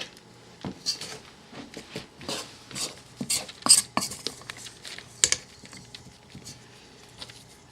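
Ingredients are mixed in a bowl for cake making, with a quick run of close clinks, taps and scrapes from a utensil against the bowl, uneven in rhythm and without talk.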